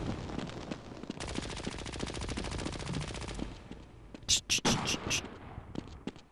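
Automatic weapons fire in the Half-Life video game: sustained rapid machine-gun bursts followed by several loud, sharp single shots, with a player speaking over parts of the action.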